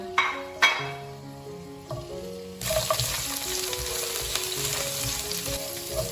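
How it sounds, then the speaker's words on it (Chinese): Five-finger peach root and ginger are stir-fried in a pot. A few clinks of metal come first, then a loud, steady sizzle with scraping stirs runs to the end. Nobody speaks. "把五指毛花跟姜放进来炒香。"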